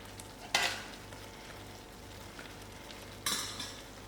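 Paneer makhani curry gets stirred in a pan, two distinct scraping stir strokes over a faint, low simmering bubble, quiet and close.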